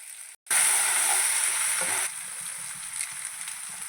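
Green chilli and ginger paste, made for a puffed rice upma, drops into hot oil with a sudden loud sizzle that hisses steadily, then settles into a softer, continuous frying crackle.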